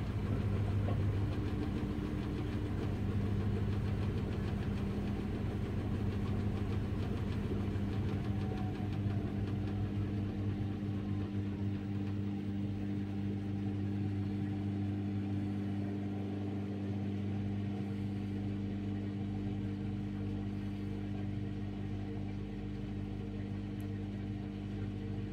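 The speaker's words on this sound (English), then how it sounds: "This is where I'm going to probably see the most unbalanced spin I've ever seen this machine ever do." A Samsung Ecobubble washing machine in a seriously unbalanced spin, with a loud, continuous low droning hum and rumble from the drum that holds steady throughout.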